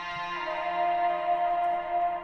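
Pitched-up vocal in an EDM track, processed with echo and reverb so a sustained, bright tone hangs and smears over a humming layered background, steady and fairly loud throughout.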